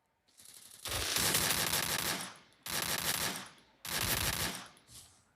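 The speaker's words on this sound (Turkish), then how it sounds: "Evet tepeden de biri sıkıyor bana." Automatic gunfire in the mobile battle royale game Free Fire, three loud sustained bursts of rapid shots separated by short gaps, close and dominant with no talk.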